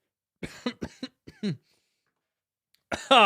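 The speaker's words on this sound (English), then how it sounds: "Still got a little lingering cough going on." Several short, dry coughs in a quick cluster, close up, then a pause and another cough starting.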